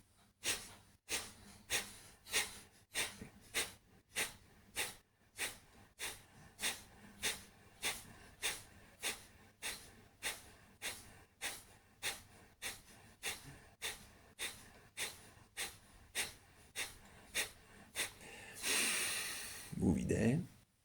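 Paced breathing exercise with about thirty-five regular, audible inhale and exhale cycles, close and steady, ending in a longer, louder exhalation.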